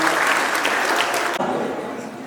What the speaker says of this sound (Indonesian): Boleh minta tepuk tangan terakhir kali